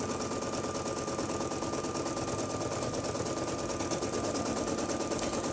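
Embroidery machine stitching a fully lined 5x7 zipper bag in the hoop, a steady fast mechanical needle rattle with an even rhythm and a faint whine, continuous and close.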